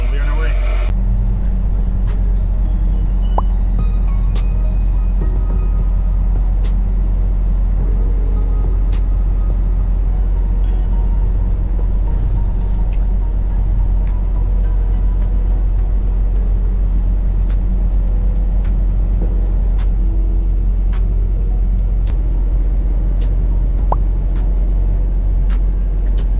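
A semi truck rolls slowly along, its engine a loud, constant low rumble with steady road noise, while someone talks over it.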